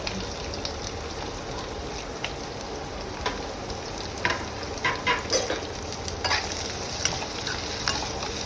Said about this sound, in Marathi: कांदा, लसूण, आलं आणि किसलेला खोबरा हे आपल्याला व्यवस्थित परतून घ्यायचं आहे।